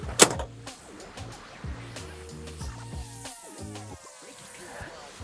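A door on a Polaris RZR Pro side-by-side, fitted with aftermarket Hi Bred doors, shuts with a single sharp latching clack at the start, followed by faint rattles and outdoor background noise.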